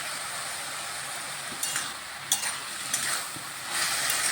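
Chola greens (chickpea leaves) with mixed vegetables and a pinch of sugar fry in a pan, a soft continuous sizzle with a few light scrapes of stirring and faint clinks.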